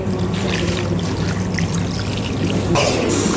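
Water poured into a pot of acar kuning cooking with onion, tomato and red chili, a steady close trickling and splashing wash that continues throughout with no talk.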